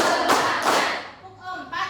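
A school class claps hands in a counting rhythm, a few sharp claps close together with voices around them.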